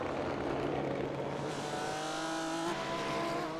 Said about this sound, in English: You've got to love those noises from the BMW.